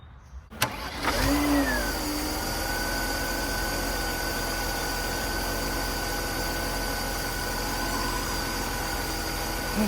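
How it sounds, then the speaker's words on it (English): A neglected Mercedes 190E that dislikes revving catches and settles into a steady, continuous idle close by, its even hum holding with no talking. "I reckon if we let it sit here and idle"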